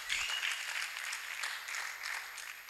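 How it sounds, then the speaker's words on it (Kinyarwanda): A church congregation claps in praise during a worship service, a faint, steady wash of many hands heard from a distance that keeps going the whole time, with a short low thump near the start. "Reka tuyikomere amashyi menshi"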